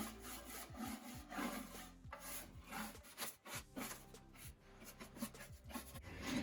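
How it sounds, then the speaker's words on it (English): A stiff brush scrubs weathered cedar fence-plank garden planters that have sat outside for years, making quiet, steady back-and-forth rubbing strokes on the wood. "the first thing we're going to do is start with cleaning them up with a brush"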